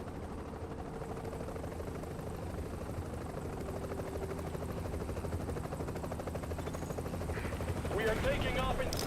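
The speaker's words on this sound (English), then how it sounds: "Okay, we're putting the chopper down." A helicopter setting down in The Division, its steady rotor drone and engine rumble filling the scene throughout, growing slightly louder near the end with a burst of extra noise, with game sounds layered over it.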